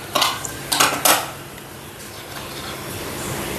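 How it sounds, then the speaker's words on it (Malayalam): Tomatoes go into a pan of beef curry with three quick metallic clanks of a spoon against the pan, then a soft steady background hiss. "തക്കാളി ഇട്ട് കൊടുക്കണം"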